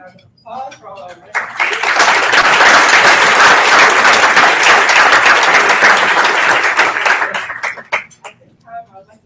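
An audience at an awards ceremony bursts into loud, dense applause that swells quickly, holds steady for several seconds, then fades back to a voice speaking at the start and end.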